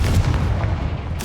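Confringo blasting spell in the Hogwarts Legacy video game: a loud, booming explosive burst with rumbling low-end that fills the moment, ending with a brighter crack.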